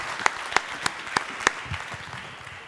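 Sharp, widely spaced loud claps at a tech pitch event, five distinct hand claps standing out over a softer wash of audience applause that fades away.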